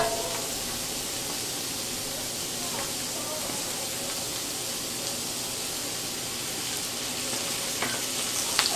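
Fennel Italian sausage sizzles and crackles steadily in hot oil in a pan, a continuous close frying hiss with occasional pops.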